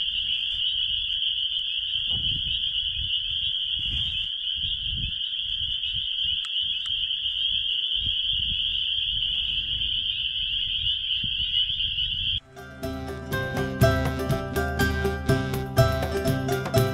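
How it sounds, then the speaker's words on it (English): Frogs at North Murray Harbor on Prince Edward Island, near the ocean, keep up a steady high-pitched trilling chorus for about twelve seconds before music takes over. "Listen to the frogs."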